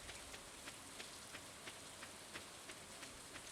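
Spring rain falls steadily in the Stardew Valley video game, a constant soft hiss of drops with faint, regular ticks, no voices.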